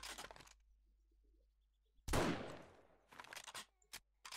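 A single loud gunshot rings out in the 7 Days to Die video game, its noisy blast decaying over about a second, followed by a few sharper bursts of shots or impacts near the end.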